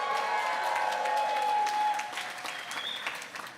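A crowd at an accessibility awards event celebrating the ADA anniversary applauds and cheers, dense clapping with whoops and shouts throughout, loud at first and easing slightly toward the end.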